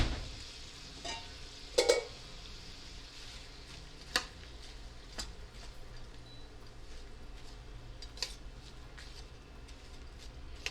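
Frozen bell peppers fry in a pan for a sausage dish, giving a soft, steady sizzle broken by a few sharp clicks and scrapes from stirring.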